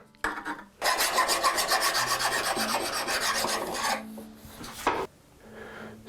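Steady rasping of a file scraping back and forth on a metal chisel to remove burrs, nearly continuous for several seconds, then a pause and a few lighter strokes.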